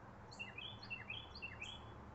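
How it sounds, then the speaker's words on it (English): Birds chirp in a backyard, a repeating series of short, high tweets at a steady rhythm over faint low background hum, moderately distant and fairly quiet. "I just heard that chirping noise."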